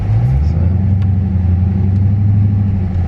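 A 2018 Dodge Charger Daytona 392 V8 pulls hard under acceleration, a loud, steady low engine rumble with a rising pitch early on, heard from inside the car.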